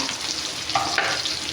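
Onions hitting a pan of oil for spicy adobo after chilies were fried, a brief close burst of frying hiss with a stir, no talking.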